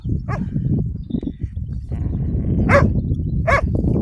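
Dog outdoors near a vineyard, several sharp barks and yips spaced over a few seconds, close and loud over rustling and footsteps.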